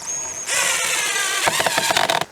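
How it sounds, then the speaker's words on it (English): A power drill whirs into a wooden fence post, spinning up after a brief faint whine and then loading with uneven bursts before stopping, close and loud. "I drill holes so again,"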